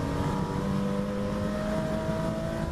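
Porsche Boxster race cars at Oulton Park, heading through the Britons section toward Hilltop, give a steady, loud engine drone with sustained tonal whine that holds throughout without a break.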